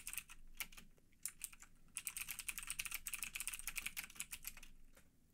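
Rapid clicks of typing on a computer keyboard, including a Ctrl+Q shortcut, sounding close and clear in a quiet room with no talking.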